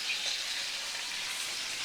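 Fish pieces coated in turmeric and salt fry in oil over a medium flame, giving a steady, close, hissing sizzle with no talk.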